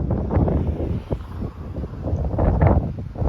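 Strong wind buffets the microphone on a roadside up high, rough gusting rumble rising and falling in surges, loud and close with no voices.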